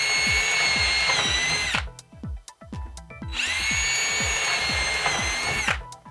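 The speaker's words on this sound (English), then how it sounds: "So I got 4 holes drilled." A power drill whines at full speed in two long bursts drilling holes in wood on a model railroad layout, with a brief pause between, close by, with a voice speaking briefly in the gap.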